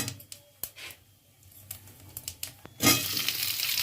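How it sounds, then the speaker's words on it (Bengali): Whole spices (cloves, cumin, bay leaf, dried chili) frying in oil for an egg curry, scattered crackles and pops from the pan that build into a loud, steady sizzle near the end, with no talking. "ফোড়নটা আমি একটু ভালো করে ভেজে নেব"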